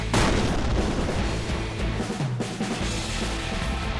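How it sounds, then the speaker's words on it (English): A thrown bomb exploding in the video game Noel the Mortal Fate, a loud close blast at the start followed by rumbling, crackling debris and a second dull thump that fade out. "He just threw a bomb in their face."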